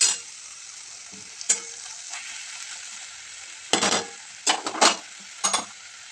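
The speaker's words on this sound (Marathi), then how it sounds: "तर आता व्यवस्थित परतून घ्यायचे तेलामध्ये।" Fenugreek leaves are stirred and fried in oil in a pan, a soft, steady sizzle broken by a few short scraping bursts as the greens are turned.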